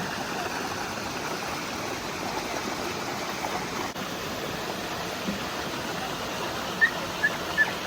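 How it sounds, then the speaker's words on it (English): Steady broadband rushing of falling water at the top of a waterfall in the Blue Ridge, constant and enveloping, with a few faint high chirps near the end. "we're at the top of the waterfall"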